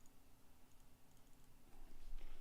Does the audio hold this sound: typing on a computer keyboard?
yes